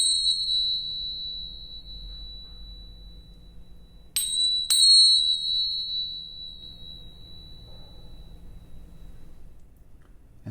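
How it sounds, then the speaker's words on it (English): Small tingsha cymbals ring a sustained bright tone that slowly decays, then are struck twice more in quick succession, the clear metallic ring lingering and fading into near silence. "And then some small tingshaws."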